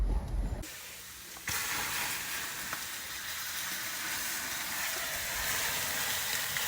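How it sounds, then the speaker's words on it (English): A steady, loud hiss of steam as water boils on a very hot brake, begins after a brief rustle and continues unbroken. "The water's boiling."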